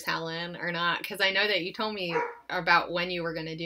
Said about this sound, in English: My dog's barking, so I will apologize for that noise.